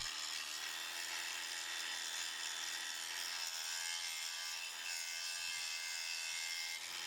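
A RIDGID 18V Octane brushless 7-inch grinder, model R88040B, strips heavy rust with a loud, continuous abrasive whir that holds steady, its tone shifting slightly partway through.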